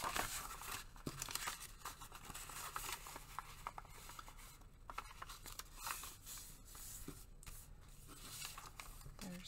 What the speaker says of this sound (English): Let's fold this in half.